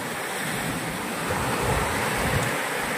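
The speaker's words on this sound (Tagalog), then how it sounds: "medyo maalon ngayon, tsaka malakas ang hangin" Rough sea surf breaking steadily on a shore at Bolinao, with strong wind gusting across the microphone; a loud, continuous wash of waves and wind noise, no voices.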